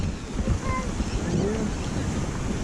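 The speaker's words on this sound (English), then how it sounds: "Gotta be careful swimming in the ocean, Bree." Ocean surf at St Pete Beach, Florida, a steady close wash of waves under heavy wind rumble against the microphone, with faint distant voices.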